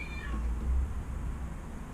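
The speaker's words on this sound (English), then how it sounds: "got a whining cat over there." A cat whining nearby in a garage during a BMW E36 328is restoration, one drawn-out, descending meow that fades into a low rumbling background.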